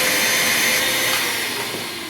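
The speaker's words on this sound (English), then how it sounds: "We'll give this area a little clean with our Craftsman shop vac." A Craftsman shop vac runs across a concrete floor, a steady loud hiss and whine throughout that eases off slightly toward the end, with no voices.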